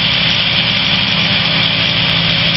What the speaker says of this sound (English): now we can pull the throttle almost all the way back